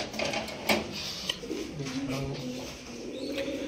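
Pigeons coo at a hobby pigeon farm, with several soft, low, throaty coos repeating at moderate distance over light background noise and a few faint chirps.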